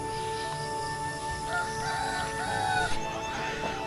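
A rooster crows repeatedly over a steady, loud background of rural ambience at home, the long drawn-out calls standing out clearly with no talk.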